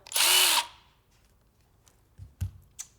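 A power drill whirs loudly in one sustained burst of about half a second, then stops, followed by a few faint knocks and clicks, with tools being gathered to mount a Flipbox LSM 20 grow box.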